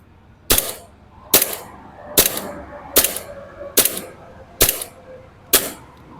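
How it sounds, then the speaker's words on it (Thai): A WE Baby Hi-Capa 3.8 airsoft pistol with a newly replaced valve is dry-fired without BBs: seven loud, sharp cracks spaced about a second apart, each followed by a brief mechanical rattle. "อันนี้ไม่ใส่ลูกนะ อ่าเทสยิงนะครับ"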